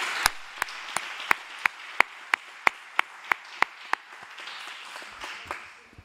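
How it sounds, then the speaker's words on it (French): Audience applause at a French hepatology society award ceremony honoring prize winners; a dense wash of clapping with one nearby pair of hands striking sharp, evenly spaced loud claps, fading after about five seconds. "qu'on peut également applaudir et féliciter pour leur travail"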